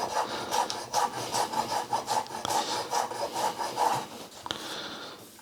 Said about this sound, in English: give it a bit of a mash, and then chop it